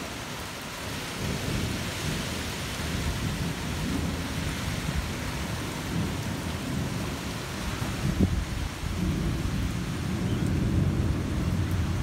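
Thunderstorm in Portland, Oregon, seen from a doorway: steady heavy rain hissing on surfaces while low thunder rumbles roll underneath, with one sharper crack partway through, continuous and loud with no talk.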